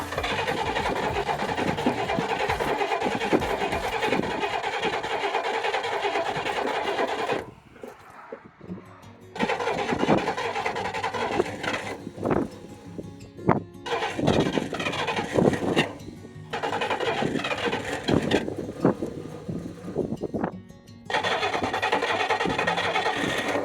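An old, long-unused Ford Thunderbird engine starts and runs with a loud steady roar, cuts out briefly twice, then catches again and keeps running with uneven revving.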